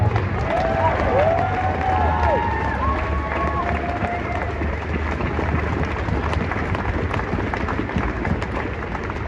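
Cheering and clapping swell from an outdoor crowd at a rally against late-term abortion, a loud wash of applause and voices with a few whistles, fading gradually over several seconds.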